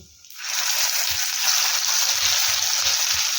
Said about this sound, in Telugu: అంతా ఫస్ట్ బాగా ఫ్రై చేసుకుందాం లో ఫ్లేమ్లో పెట్టేసుకోండి